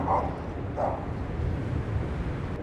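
Dogs barking at a passing Onewheel GT-S electric board rider on a street with traffic, two short barks close by over steady road and wind rumble.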